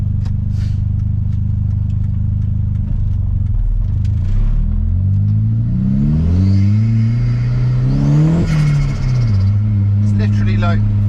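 Turbocharged 1.8T-swapped Mk3 MR2 accelerating from inside the cabin, engine drone rising and falling through the revs with turbo whistle building, loud and continuous.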